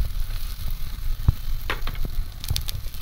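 Onions frying in a pan give a close, continuous sizzle, with scattered clicks and a sharp tap of a utensil against the pan; no one speaks.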